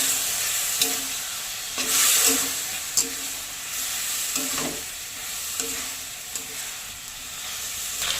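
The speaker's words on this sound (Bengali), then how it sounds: "একটু জল দিয়ে ভালো করে নাড়িয়ে দেবো।" Watermelon rind curry being stirred in a pan with a little water, a continuous sizzle and steamy hiss with several soft scrapes and knocks of the spoon at irregular intervals.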